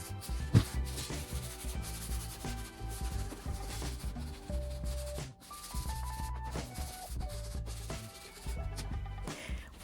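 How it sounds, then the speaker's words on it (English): Rhythmic back-and-forth rubbing of 220-grit sandpaper over fresh paint on a vintage chair, close and fairly soft, continuing steadily throughout. "I'm using this 220 grit sandpaper to make sure that my paint is on smooth to the touch."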